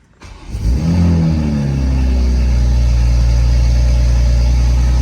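A Toyota Supra MK5 with an aftermarket intake starts up and revs, its turbo engine rising in a loud pitch sweep before settling into a deep, steady drone close by.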